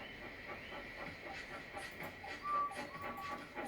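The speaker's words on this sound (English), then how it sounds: "So they lit his fire, made lots of steam, and Edward puffed away." A steam engine puffs faintly in a soft, steady rhythm, with a quiet hiss running underneath and no voices.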